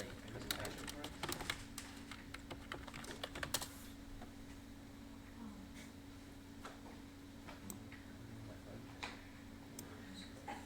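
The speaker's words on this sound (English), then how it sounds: "Now he's typing." Computer keyboard being typed on during a livestream, a faint patter of irregular key clicks in short flurries, quiet against a low steady hum with occasional soft voices.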